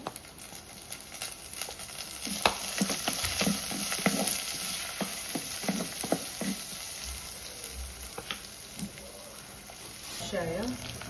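Green chilies and curry leaves frying in oil with garlic and shallots for a spicy mackerel dish, a steady sizzle with repeated stirring taps and scrapes against the pan, a voice briefly heard toward the end.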